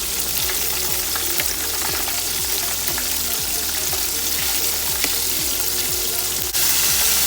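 Chicken fries submerged deep in cooking oil, a dense continuous crackling sizzle with a steady pulse of rhythmic scraping, loud and close throughout.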